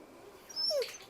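A dog gives a single short, high whimper, close and fairly quiet, over a soft background hush.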